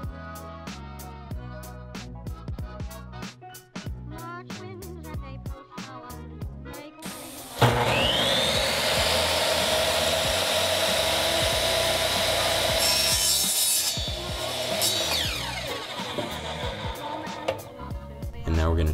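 PVC pipe being cut to length with a saw for a homemade shakuhachi flute, a steady, loud rasping saw stroke running continuously after a few seconds of lighter handling noises.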